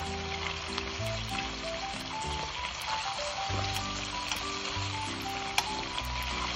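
Pork spare ribs fry in a pan with a steady, soft sizzle and light crackles throughout, under a low background hum.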